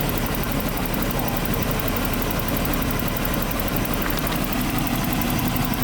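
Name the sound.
Jaguar XJ40 engine idling roughly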